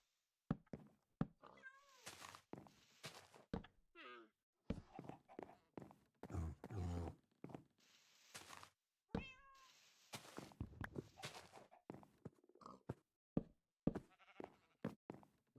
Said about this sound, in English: All I hear is a toad croaking and like cats meowing